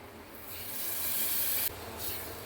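Milk poured into roasted semolina in a hot pan for halwa, giving a steady loud hiss and sizzle that swells and briefly dips, with no voices.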